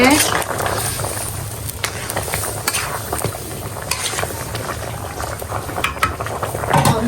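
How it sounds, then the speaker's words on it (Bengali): Meat cooking in a pot on the stove, giving a steady close bubbling and hissing simmer throughout, with occasional clatters from stirring. "তো এই যে আমাদের মাংস কিন্তু রান্না হচ্ছে।"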